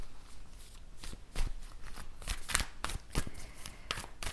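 Oracle cards being shuffled by hand, a run of crisp riffling flicks and soft slaps at irregular intervals, close and fairly quiet, with no one speaking.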